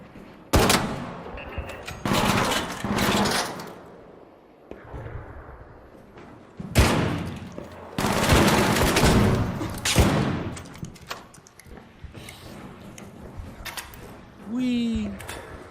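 Bursts of automatic gunfire in a co-op shooter game, loud repeated volleys separated by short pauses, with players talking between the shots.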